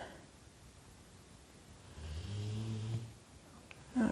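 After a quiet moment, a dog lets out one long, rumbling snore close by, followed by a brief snort.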